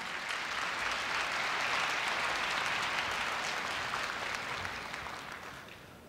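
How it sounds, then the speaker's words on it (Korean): A large crowd at a Korea University entrance ceremony claps steadily, a dense roar of applause that holds for several seconds before slowly fading. "뜨거운 박수로 맞이해 주시기 바랍니다"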